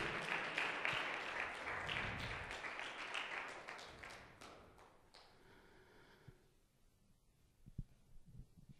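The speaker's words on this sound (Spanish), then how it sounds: "Dale un aplauso fuerte." Church congregation breaks into strong applause that fills the first few seconds, then fades away, leaving a quiet room with a few scattered thumps and claps near the end.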